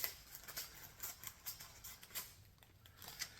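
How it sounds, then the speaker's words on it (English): Quiet, repeated snipping of scissors through parchment paper, soft crisp cuts in an irregular rhythm. "got a couple sheets of parchment paper that I'm gonna cut to fit the dehydrator"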